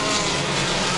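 Four-cylinder dirt race cars roaring steadily with a high, buzzing engine drone like a swarm of bees, loud and continuous throughout.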